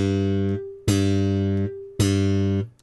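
Bass guitar demonstrating the pop (pluck) technique, with two sharp, bright attacks that snap out of a sustained low note and ring before being cut off, played loud and close with no voices.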